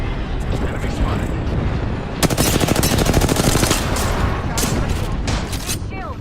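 Rapid automatic gunfire from a military shooter video game erupts in dense, loud bursts, joining ongoing background combat noise, with radio chatter and game voices mixed in throughout.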